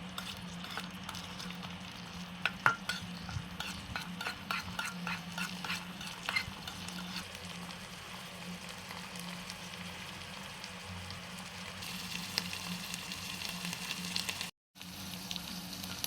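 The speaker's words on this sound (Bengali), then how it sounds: "আমি দিয়ে দেব এখন পেঁয়াজ বাটা, আদা রসুন কাঁচামরিচ বাটা। সুন্দরভাবে মশলাগুলো কষিয়ে নেব।" Onion paste, ginger, garlic and green chili paste frying in a pan for shrimp bhuna, a soft steady sizzle with faint scraping stirs and occasional utensil clinks, close and quiet with no talk.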